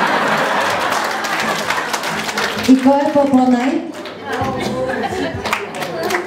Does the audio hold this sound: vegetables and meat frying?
no